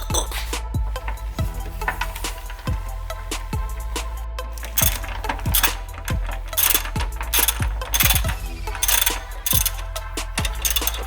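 A ratchet tightens the top transmission mount on an Acura TSX/Accord, giving a regular series of close metallic clicks and knocks that grow busier and denser toward the end, with no talk.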